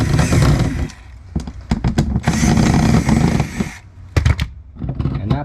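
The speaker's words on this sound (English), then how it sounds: "I'm going to take my drill driver and back that off." A drill driver backing out screws on an RV alarm, with close, loud whirring bursts in stop-start pulses and short gaps between them.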